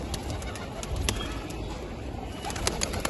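Pigeons coo softly nearby with occasional wing flaps, against steady background noise.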